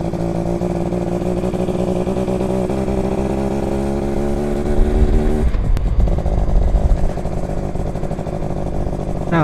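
A 1980 Yamaha V80 motorcycle with a cold two-stroke engine runs loudly and close, buzzing and revving in uneven surges, dipping briefly before climbing again, with no talk over it.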